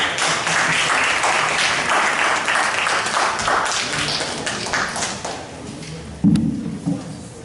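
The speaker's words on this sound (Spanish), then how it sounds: "Por favor, un aplauso para José María." Applause for José María in a class, a group clapping briskly and fairly close, tapering off, followed by a single low thump near the end.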